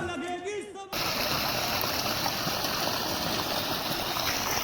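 An irrigation motor pump on a farm near Jamnagar, India, pushes out a strong, steady gush of water, a loud continuous rushing splash that starts abruptly after a brief moment of voices and music.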